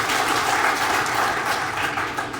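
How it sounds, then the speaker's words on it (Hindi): A crowd at a political gathering in India applauds, with former state party president Satish Poonia addressing the event; a steady, dense wash of clapping holds evenly through the whole stretch with no voices on top. "एक बार सबके लिए ताली बजाओ"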